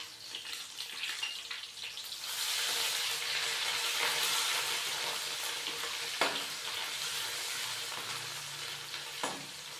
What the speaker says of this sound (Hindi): हल्का सा फ्राई करेंगे अदरक और लहसुन के पेस्ट को, ताकि इसका कच्चापन खत्म हो जाए